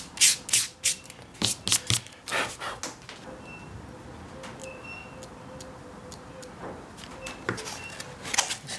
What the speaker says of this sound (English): I'm just going to roughen up this sort of smooth part of the winglet